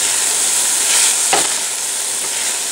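Corn with Italian seasoning and salt frying in a pan over medium-high heat gives a loud, continuous sizzle with one brief stirring scrape partway through, and no voices.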